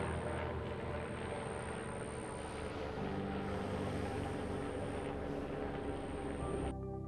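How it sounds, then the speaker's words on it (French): A helicopter circles somewhere nearby during an indoor guided meditation, its steady low rotor drone rumbling throughout and swelling slightly midway, with no talk over it. "je suis pleinement conscient qu'il y a un hélicoptère autour de moi"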